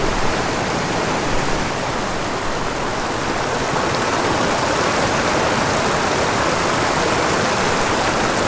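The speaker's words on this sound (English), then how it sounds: "There's a large open pool on this tiny little creek." A small creek flowing steadily nearby, a constant broadband rush and burble of water with no voices.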